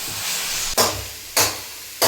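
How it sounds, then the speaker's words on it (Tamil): Ground masala sizzling and hissing in a pan for duck curry, a steady loud frying hiss broken by three sudden bursts as the mixture is stirred, with no talking. "நல்லா எல்லாம் பிரிகிற அளவுக்கு வதக்கி விட்டுடலாம்."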